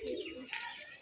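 Pigeons of various kinds coo softly near a keeper calling them down, a faint, close burble of low coos with a brief higher chirp, no talking during the moment.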